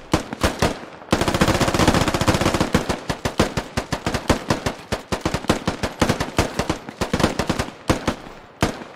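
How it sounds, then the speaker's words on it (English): Rapid automatic gunfire bursts from a SquadOps battle, loud and close, with a dense sustained volley early on followed by irregular clusters of sharp shots and short pauses. "Killer J shooting Javi"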